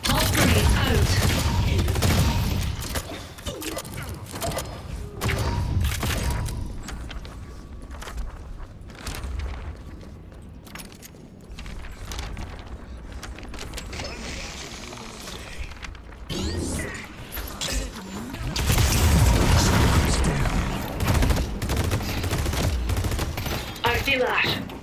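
Grenade blast and gunfire in StarCraft II: a dense, continuous clatter of shots and impacts that swells, dips in the middle, then surges loudly again, with voices talking over it.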